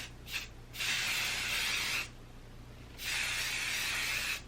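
Two long hissing bursts from an aerosol hairspray can, sprayed from a distance, each lasting over a second, with a quiet pause between them.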